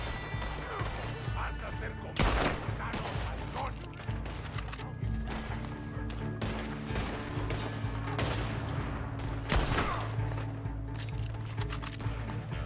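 Gunfire crackles through a Red Dead Online ambush, with two loud sharp shots standing out among scattered rapid gunshots, and talking under the action.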